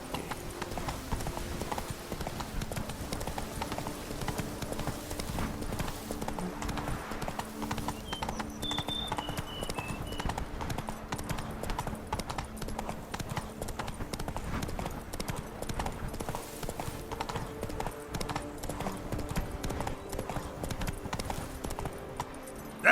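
Steady clip-clop of the horse Roach's hooves in the Witcher 3 game, a continuous even trot running throughout at moderate level, with a few faint chimes and ambient game sounds underneath.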